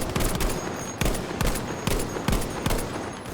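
Selbstlader 1916 semi-automatic rifle fire in the World War II shooter Battlefield V: a rapid string of sharp, evenly spaced shots, loud and close, with no talking.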